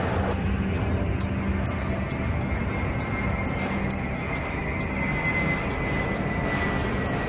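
Airliner taking off in the airport-management game Airport Madness 4, a steady engine roar that holds loud and even throughout, with faint regular clicks running over it.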